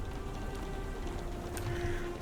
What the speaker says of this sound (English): Let's run through the rain right now.